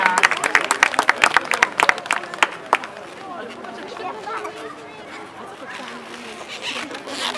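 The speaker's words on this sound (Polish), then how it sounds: "Brawa dla Rubina." A crowd claps in sharp, quick bursts for a horse performing at an equestrian show, the clapping fading after a few seconds into murmuring chatter and a nearby talking voice.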